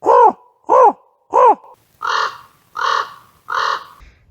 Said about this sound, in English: Whenever you hear a noise in the forest and you don't know what it is, like, what was that? That was a weird sound. It's probably a raven.